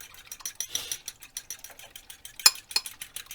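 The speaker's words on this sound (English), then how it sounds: "I'm going to beat up this egg real quick." An egg is beaten in a bowl for an egg wash for fruit pies, producing a rapid, steady run of light tapping clicks from the whisk striking the bowl, close and with no talking.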